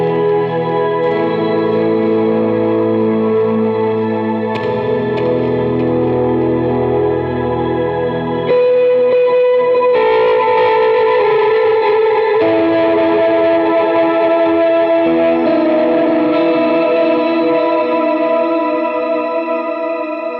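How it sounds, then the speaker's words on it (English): Electric guitar through a Quad Cortex Open Sky preset stacked with delays and a boost, sustained chords and melodic notes washing into long, shimmering echoes that keep ringing as the harmony shifts, played alone with no talk. "Finally, Open Sky, where I'm going to turn on all of these delay effects, maybe even the boost, and it will sound like this."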